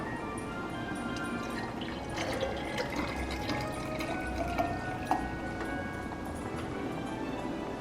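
Liquid trickles and drips into a glass, soft and close, with a few faint clinks over a low background hum.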